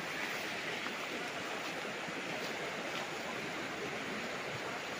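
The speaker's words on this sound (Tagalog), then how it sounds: "Ayun ang ilog mga kapraps" A river flows beside a farm lot with rice paddies in Cavinti, Laguna, a steady, even rush of water with constant broadband hiss, moderately faint and unbroken, with no voices.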